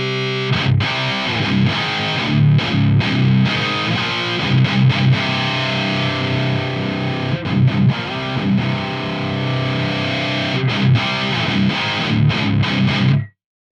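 Electric guitar played through a Synergy SNY-20IR amp with the reactance knob turned left, a heavily distorted, steady stream of chugging chords and riffs with brief muted gaps, loud and alone, no talking.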